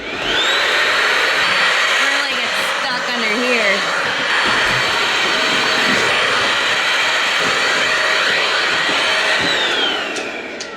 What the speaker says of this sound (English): we're gonna vacuum together because we have dogs. And that means we have dog hair. Let's vacuum.